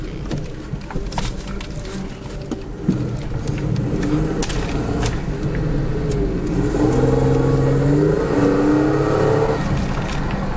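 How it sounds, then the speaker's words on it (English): A 1988 Oldsmobile Cutlass Ciera Cruiser woody station wagon with a 3800 engine pulls away and accelerates, its engine note building steadily and then changing pitch as the transmission shifts gears, heard loud and close with road noise. "Upshifts, downshifts beautifully, as you just seen there."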